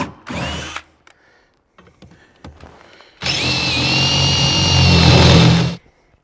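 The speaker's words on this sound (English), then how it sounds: "The rear section is where you have to drill 3 holes." A power drill whines loudly for a few seconds as it bores through sheet metal on an 80 Series Land Cruiser's rear section, preceded by a short burst and some clattering handling noises.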